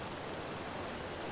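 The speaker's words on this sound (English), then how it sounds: "Look at the top of the waterfall." Waterfall in the video game ARK: Survival Evolved, a steady, dense rushing roar of falling water that fills the whole moment without break, loud and close.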